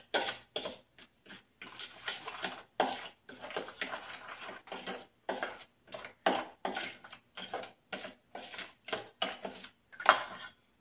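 Maggi bhel being mixed with ketchup and Schezwan sauce in a bowl, a close run of short scraping, clinking stirs in an irregular rhythm with brief pauses between strokes.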